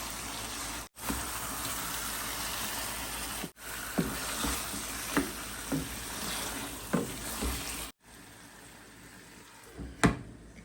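Spice masala with frozen tomato being sautéed in a pan, a steady low sizzle broken by several sharp scraping or stirring clicks and a few brief gaps, with no talk.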